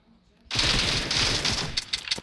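Video game 7.62 rifle gunfire bursts in after a quiet moment, a loud, sustained rapid stream of shots followed by a few separate closer cracks at the end.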